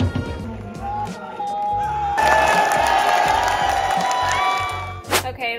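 A baseball game's cheering section roars and chants as a big crowd, steady and loud throughout, with voices talking near the front.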